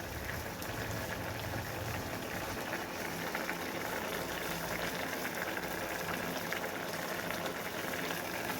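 Paarai fish curry bubbling in a pot, a continuous dense boiling hiss held at an even level throughout, with no voices.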